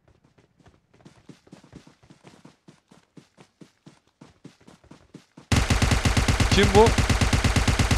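Rapid automatic gunfire in PUBG Mobile, faint distant shots at first, then a sudden loud, close, rhythmic burst, with a brief spoken question from a player.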